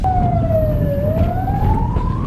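A wailing siren on an animal ambulance heading out on a snake rescue in Uganda, one long tone sliding down and then rising again, loud and steady over road rumble.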